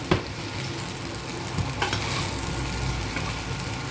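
Spaghetti with bolognese sauce being stirred in a pan, a steady soft sizzle and scrape of the spoon running throughout with a couple of sharper clinks, no voices.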